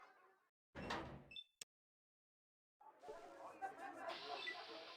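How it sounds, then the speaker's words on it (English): A door closing and locking in the video game Fallout: Nevada, heard as a short clunk followed by a sharp click, then a busier stretch of game sound effects. "I locked the door."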